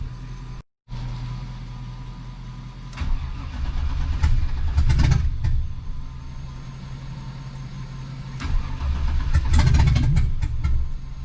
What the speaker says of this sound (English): it is firing, it's cranking, it's firing, all that kind of stuff